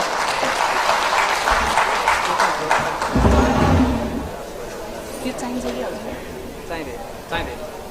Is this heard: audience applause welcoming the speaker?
yes